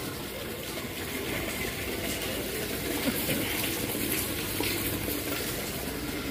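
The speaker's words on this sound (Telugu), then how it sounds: "పైనుంచి ఎలా పడిపోతున్నాయా, పైనుంచి ఫుల్ దన్నా పడుతున్నాయి" Heavy rainwater gushing down from above during a downpour, a loud, continuous broadband rush of pouring water filling the whole clip with no pauses.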